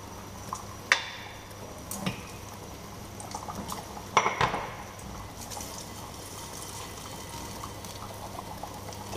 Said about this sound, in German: Der Speck, der tut jetzt richtig schön hier vor sich hin krusteln